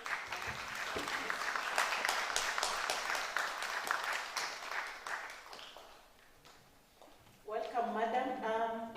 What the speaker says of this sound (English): Let us give her a round of applause until she reaches the podium.